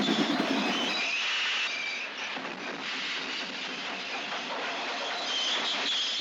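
Steam engine puffing and pushing hard, a continuous loud rail rumble with hiss and faint clickety-clack throughout, train sound effect with no voices.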